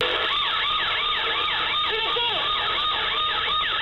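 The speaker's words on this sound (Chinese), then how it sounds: "警笛声大作" A police siren wails continuously at close range, its rising and falling tone repeating steadily and loud throughout, heard during a street chase after a suspect in Taiwan.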